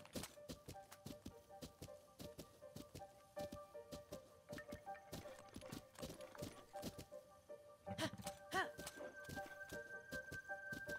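Video game horse hooves clip-clop in a steady, fairly close rhythm for the whole stretch, with scattered chimes and bright tones from the game mixed in.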